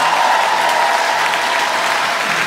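A crowd at a talk with Andrzej Wajda at the Academy of Fine Arts during Przystanek Woodstock 2010 bursts into steady, dense applause, many hands clapping evenly and close throughout.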